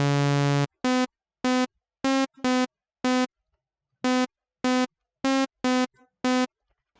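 Hard bounce synth melody of eleven punchy, identical buzzy notes in a steady staccato rhythm with short gaps, loud and dry with nothing else playing.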